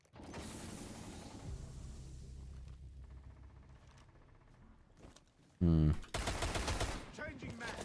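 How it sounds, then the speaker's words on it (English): In the Rainbow Six Siege video game, a weapon magazine is swapped with soft mechanical clicks and rattles, followed by a sharp metallic clack and a burst of louder clattering near the end. "Changing mags."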